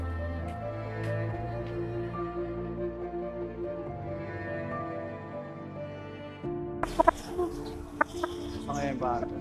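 Chickens cluck and squawk near and loud over a backdrop of steady tonal sound, with sharper bursts of clucking toward the end.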